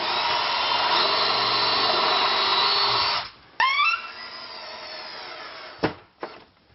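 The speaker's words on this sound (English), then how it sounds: "I'm going to pre-drill pilot holes and fasten screws right through the countertop" Drill boring pilot holes through a laminate countertop, a steady close whine for about three seconds that cuts off abruptly, followed by a few sharp knocks and short bursts of drilling.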